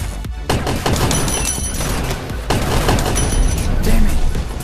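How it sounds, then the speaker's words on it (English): Rapid gunfire from dual pistols in the multiplayer shooter Gun Raiders, dense bursts of shots and impacts running almost continuously over game noise, with a voice talking over the action. "There's another person shooting at me! And he's using dual pistols!"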